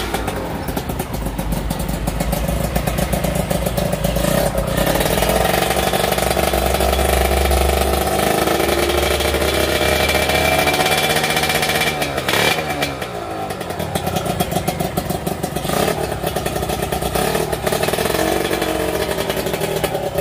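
A Kawasaki Ninja 150 motorcycle engine runs loud and close, holding a raspy idle, then rising and falling in throttle blips with a steady, buzzing two-stroke tone throughout.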